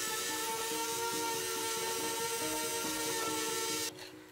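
A steady, loud power sander whir on a caravan runs continuously with a faint rhythmic pulsing, then cuts off abruptly near the end, leaving quieter background noise.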